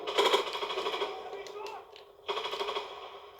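Rapid automatic gunfire from Call of Duty WWII multiplayer on London Docks comes in two loud, close bursts separated by a brief lull with faint other effects.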